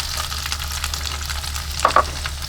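Onions hitting a hot sauté pan and frying in a steady, close hiss, with a couple of brief clinks of a utensil against the pan partway through.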